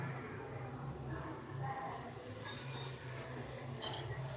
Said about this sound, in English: We will fry our aloo paratha. Please keep our aloo paratha and add little ghee